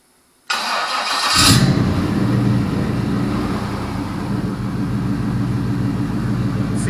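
A Chevy LS 5.3 engine cranks briefly after near silence, catches with a loud surge, then settles into a steady, close idle hum that runs without pause to the end.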